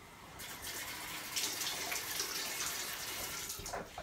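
Warm water runs steadily from a tap into a sink for hand washing. The stream is soft and continuous with a faint splashing quality, and no one speaks.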